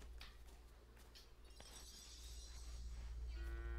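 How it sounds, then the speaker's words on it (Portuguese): Cows moo in Lego Fortnite, low drawn-out calls over a steady droning background, joined by a few clinking effects, with the sound growing louder toward the end. "Olha as vaquinhas"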